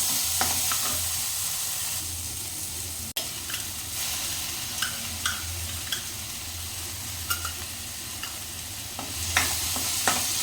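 A ground paste of coconut and coriander sautés in a hot pan, giving a continuous loud sizzle broken by regular light scraping strokes of a spoon stirring it.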